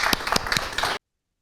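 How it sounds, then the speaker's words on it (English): A small audience at a research pitch session claps in a quick, close burst of separate hand claps lasting about a second before cutting off abruptly. "a big applause to Sai"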